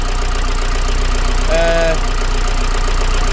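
A Vauxhall Vivaro 2.0 van engine idles steadily after an injector replacement, an even close mechanical chug with a brief tonal whine rising and fading midway, and a short word spoken over it.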